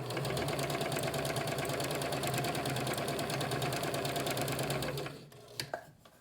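A Kenmore 385 series sewing machine runs steadily for about five seconds, sewing a decorative stitch with a fast, even mechanical whir. It then stops, leaving a couple of brief clicks and knocks.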